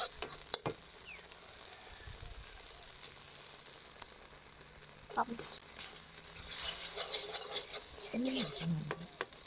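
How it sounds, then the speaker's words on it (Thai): Spicy Thai curry with Thai eggplant and pork is stir-fried over a charcoal stove, with a soft steady sizzle under scraping spatula strokes and the odd clink of the pan, rising louder toward the end. "เราก็จะผัดไปก่อนนะคะ"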